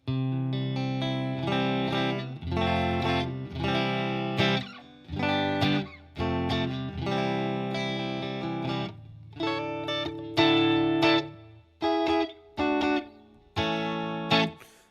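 Clean electric guitar through a King of Tone clone pedal on an Amazing Tweed amp setting, playing strummed chords and short riffs, each phrase ringing out then stopping, with light reverb and no talking.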